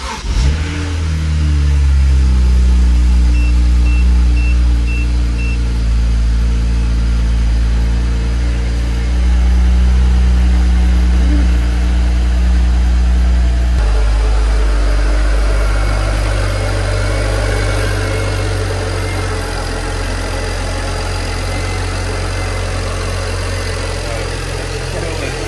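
A BMW 135i E82 with the N54 engine cranks and fires, revs briefly, then settles into a steady, loud idle that continues alone up close, with a shift in tone partway through.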